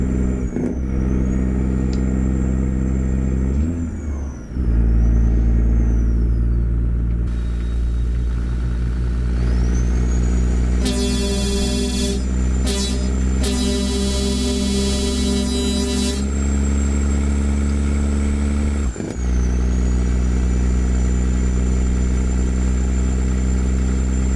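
A truck engine on a Nebraska cattle quad-train runs with a steady, loud, deep drone throughout. Sharp, hissing bursts cut in about midway, and a high whine rises and falls over the rumble.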